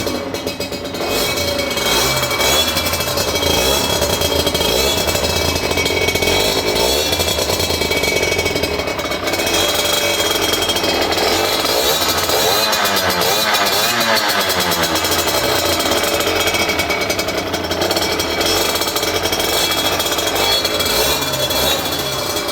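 Small two-stroke engine of a 2012 Aprilia RS4 50 motorcycle running steadily, a loud buzzing rasp close by with slight revving rises and falls throughout.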